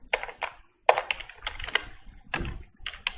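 Bursts of keystrokes on a computer keyboard, typed in quick irregular clusters with short pauses between them, close and fairly clear with no talking.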